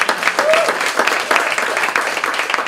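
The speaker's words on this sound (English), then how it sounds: "A huge round of applause." A symposium audience in a high school setting applauds steadily throughout, a dense wash of clapping with a brief whistle-like tone near the start.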